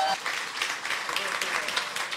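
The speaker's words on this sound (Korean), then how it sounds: "큰 박수로 환영해 주시기 바랍니다." A studio audience applauds to welcome a guest onto a talk show, a dense, steady wash of clapping at moderate volume.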